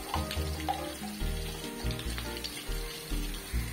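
A chapati laid on a hot griddle with ghee poured on it sizzles and crackles softly, an uneven frying hiss with steady tonal sound running underneath.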